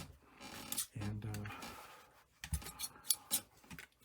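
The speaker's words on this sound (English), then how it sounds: "this is just to demonstrate how the scissors are so important" Scissors cut through interfacing fabric in short, crisp snips and scraping strokes, close and quiet, with a soft voice speaking in between.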